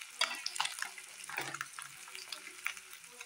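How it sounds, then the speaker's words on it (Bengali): Fish fry in hot oil in a wok, giving a soft, steady sizzle with occasional crackles and spatters, heard close but at low volume. "এখানে মাছগুলিকে ভেজে নিচ্ছি।"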